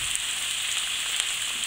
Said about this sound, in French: Dans l'huile qui a servi à cuire donc notre poisson, je vais mettre les oignons à tomber.